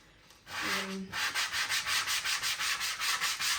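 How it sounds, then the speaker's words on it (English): A Cricut cutting mat is scrubbed clean with quick back-and-forth strokes. The steady, gritty rubbing runs in an even rhythm, close up, after a brief faint tone at the start. "I'm going to just go through and quickly scrub it all down."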